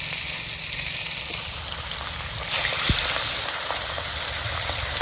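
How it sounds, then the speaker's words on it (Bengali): Pabda fish fry in oil over a wood fire, a loud, steady, close crackling sizzle that swells slightly midway, with a brief knock. "এইভাবে ভেজে নিতে হবে সব মাছগুলো"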